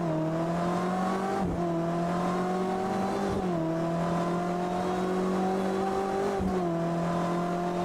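Race cars in a video game at Spa during a 6-hour endurance race, with engines droning loud and steady, their pitch dropping sharply at several gear shifts as the cars brake into the chicane.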